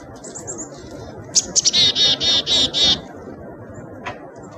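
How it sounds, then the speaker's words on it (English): Bright, high chickadee chirps, a quick run of repeated notes close by, followed by a lone short call. "You might be hearing the chickadees and the birds around me."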